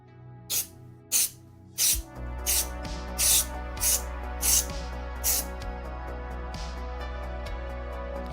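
QD contact cleaner sprayed from an aerosol can to blow dust off a workbench part, heard as about eight short, sharp hissing bursts in a steady rhythm, close and loud over a low background hum.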